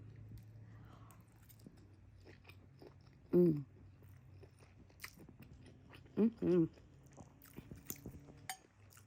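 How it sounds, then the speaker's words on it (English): Noodles and shrimp eaten close to the mic in a small mukbang, with soft background chewing and two short crunchy bites standing out, one alone and then a quick double bite a few seconds later. "here you go, a little mini mukbang for you. There's some noodle and some shrimp"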